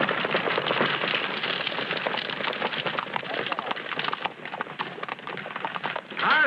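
Horse hooves clip-clop in a quick, steady rhythm on hard ground, dense and continuous at mid distance in a 1939 western, with muffled, old-recording quality.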